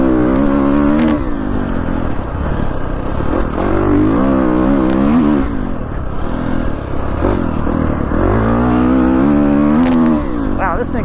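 A 2019 Kawasaki KX450F dirt bike engine revs loud and close, its pitch rising and falling through repeated throttle blips over a steady, buzzy idle.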